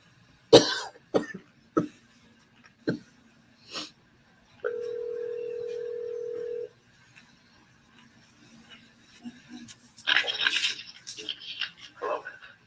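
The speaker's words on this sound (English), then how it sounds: "Can't stop coughing." A person coughs in a string of sharp, close bursts, about five or six spread over three seconds. A steady telephone-like tone runs for about two seconds afterwards, then comes some muffled rustling noise.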